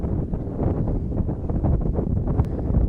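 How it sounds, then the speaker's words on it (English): Strong gusting wind buffets the microphone at an outdoor baseball game, producing a loud, uneven low rumble that rises and falls throughout. "Boy, that wind is really gusting"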